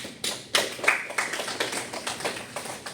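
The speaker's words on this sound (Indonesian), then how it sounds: "Tepuk tangan." Classroom applause from students: a burst of quick hand claps and taps close by, uneven and continuous throughout, with no talking.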